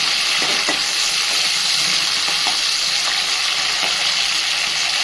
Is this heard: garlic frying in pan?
yes